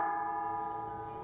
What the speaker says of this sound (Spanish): ¿Cómo suena una campana rajada?